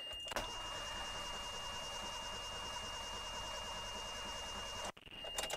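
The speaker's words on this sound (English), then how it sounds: "we have this Toyota Tercel that won't start" A Toyota Tercel with moisture on its distributor cap and rotor cranks steadily without catching, one continuous whirring crank that stops abruptly near the end, heard up close.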